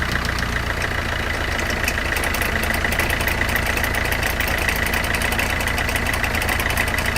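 A Rolls-Royce Silver Spirit engine runs close by at a loud, steady idle with an even mechanical clatter throughout and no talking.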